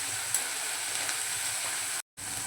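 Chopped onions frying in a pan with dried prawns and green onion nearby, a steady close sizzle with faint stirring scrapes that cuts out briefly near the end.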